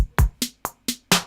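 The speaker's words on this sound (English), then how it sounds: "drums sound like this" Six sharp hip-hop drum hits in a steady, sparse pattern, punchy low thumps alternating with brighter snare-like cracks, dry and close with no other sound.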